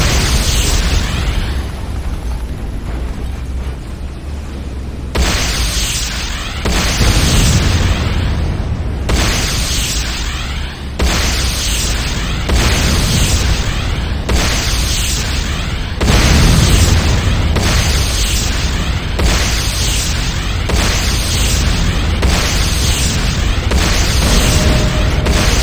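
Repeated heavy explosions pound a Tiberium Refinery under attack in the Renegade shooter game, loud booming blasts one after another every second or two, with a continuous roar of battle between them.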